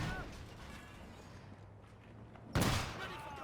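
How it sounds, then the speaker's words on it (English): Anti-tank gun in Company of Heroes 2 fires a single heavy shot at a light armored car, a sudden loud boom near the end cutting through low battle ambience. "AT gun gets a good shot going there on the 222"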